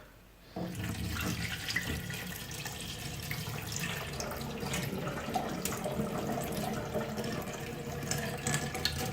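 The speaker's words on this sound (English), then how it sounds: "just get rid of some of the water" Water pours steadily into a sink as washed rice is drained, a continuous splashing rush that starts abruptly and runs on close by, with small clinks and drips.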